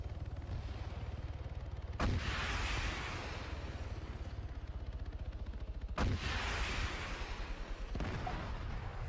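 RPG rockets in Arma 3, fired at an enemy helicopter: three sharp, loud launch blasts spaced a few seconds apart, each followed by a rushing roar over a low, steady rumble of battle.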